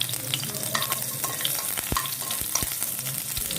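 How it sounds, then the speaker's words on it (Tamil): Garlic and ginger sauté in oil in a kadai, a soft continuous sizzle up close punctuated by a few sharp taps and scrapes of a spatula against the pan. "அதே வாணலில் கொஞ்சம் எண்ணெய் ஊற்றிட்டு பூண்டு, இஞ்சி சேர்த்து நல்லா வதக்கணும்"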